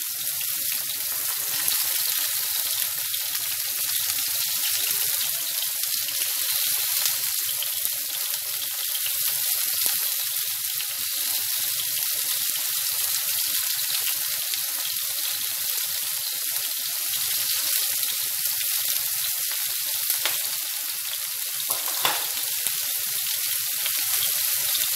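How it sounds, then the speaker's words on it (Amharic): White onion and tomato frying in a pan, a dense, steady hiss of sizzling oil running throughout with faint crackles and a brief stir near the end, no talking. "ከዛ ቲማቲምም ደግሞ እንደዚህ ጠብሳለሁ"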